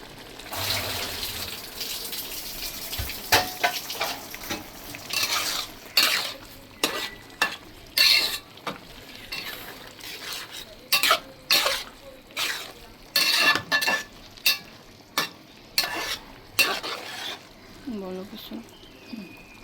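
Loitta dried fish stir-fried with eggplant and potato in a pan, sizzling steadily under loud, repeated scraping and knocking of a spatula, close by, with bird calls faintly in the background.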